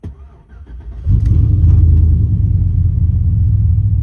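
A 1999–2007 Chevrolet Silverado truck engine cranks briefly, then catches and settles into a loud, steady, deep rumbling idle close by.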